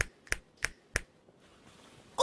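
Four sharp finger snaps in a steady rhythm ring out close up, followed by a quiet stretch and a louder sound at the end, on a children's programme.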